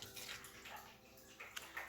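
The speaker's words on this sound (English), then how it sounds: "sorry if you can hear my dogs drinking water" Dogs lap water indoors, faint wet splashy licks in a short quiet run with a couple of slightly sharper laps near the end and no talk.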